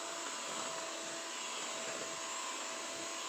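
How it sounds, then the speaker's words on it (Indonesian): A Signora electric hand mixer whirs steadily while beating cake batter, giving a continuous, even, fairly loud motor drone with no pauses and no voices. "Kita mixer aja terus. Di sini aku memakai mixer lajor dari Signora"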